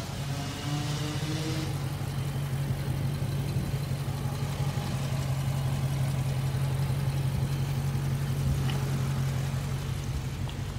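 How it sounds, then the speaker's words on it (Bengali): A new 2021 Dodge Charger's 6.4-litre V8 idles nearby in a smooth, even low drone that stays constant, with a faint click or two over the hum. "এই আপনার ইঞ্জিন V8"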